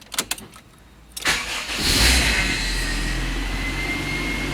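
A rebuilt Honda CR-V engine cranks with a few sharp bursts, then catches and settles into a steady, loud idle that runs on without pause.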